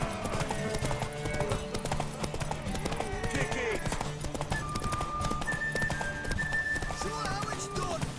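Horse hooves clip-clop at a steady galloping rhythm in The Witcher 3, loud and continuous, mixed with game music and ambient tones, with a brief whinny and voices talking over it.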